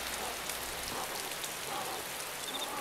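Steady rain patters on a hard surface in the video game DayZ, a dense even hiss of droplets with no talking.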